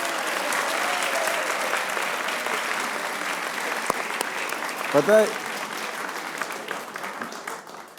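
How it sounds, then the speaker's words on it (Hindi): Applause from a studio audience at a Pakistani cricket talk show, a steady dense wash of clapping filling the room throughout, with a brief voice speaking over it midway. "युगांडा के और घाना के लोग, इन सबके लिए तालियां बजाएं।"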